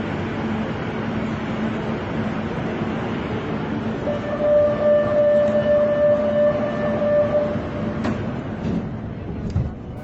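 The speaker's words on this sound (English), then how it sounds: "This footage was taken this morning at the metro in Santo Domingo." A metro train in Santo Domingo rumbles loudly at close range, with a sustained tonal whine rising midway and a few rattling clanks near the end.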